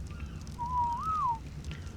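A single clear rising-and-falling whistle note, like a command to a tamed creature in the ARK survival game, lasting under a second over a low ambient game hum.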